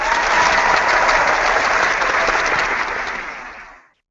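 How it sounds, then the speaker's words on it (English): Canned applause from a sound effect plays for JD during a talk show: a dense, loud wash of clapping that holds steady, then fades out at the end. "I think he deserves a round of applause,"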